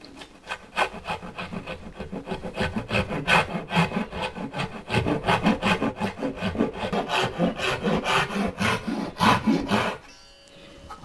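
A hand saw cuts a wooden tenon with steady, rhythmic rasping back-and-forth strokes, close and continuous for about ten seconds before stopping.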